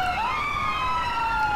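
A siren wails steadily from an emergency vehicle in GTA 5, a loud, near, rising then sustained electronic tone with no talk over it.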